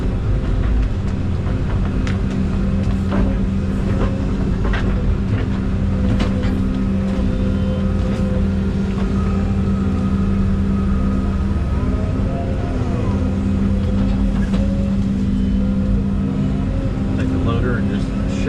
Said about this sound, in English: Take the loader and just shove it right over there.